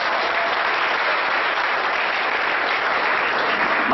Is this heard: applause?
yes